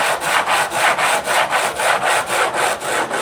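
Steady back-and-forth sanding strokes on an acoustic guitar saddle, about three per second, a rhythmic gritty rasp close by with no talking.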